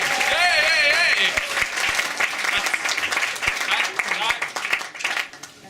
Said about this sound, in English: That is probably the only applause I'll get all night.